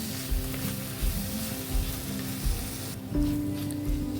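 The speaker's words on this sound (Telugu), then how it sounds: "ఫ్లేమ్ సిమ్లో పెట్టేసుకొని ఒక టూ మినిట్స్ దాకా ఫ్రై చేసుకుందామండి" Wood apple pulp frying gently in a pan over a low flame, a soft continuous sizzle with periodic quiet stirring scrapes, close and fairly faint.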